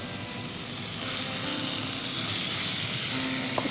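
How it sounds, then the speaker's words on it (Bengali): Shrimp fry in hot melted butter in a pan, a loud, steady sizzling hiss with faint crackles throughout and a few brief clinks near the end, no talking. "আমি প্রথমে শ্রিম্পটাকে ভেজে নিব"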